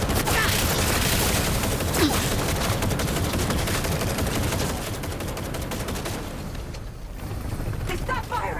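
Sustained automatic gunfire in the video game Cyberpunk 2077, a rapid stream of shots and mechanical clatter that runs loud for several seconds, eases briefly, then resumes with a few sharper bursts.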